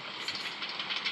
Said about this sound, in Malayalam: അവിടെ ട്രെയിൻ കിടക്കുന്നു.